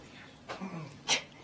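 One muffled sneeze: a short voiced build-up followed by a sharp, hissy burst, fairly soft and heard alone against a quiet background.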